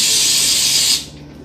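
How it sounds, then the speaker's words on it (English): Cooking spray misting a bun pan baking tin, one sustained hissing burst lasting about a second, close to the microphone, then it cuts off. "Now I'm gonna spray my baking tin."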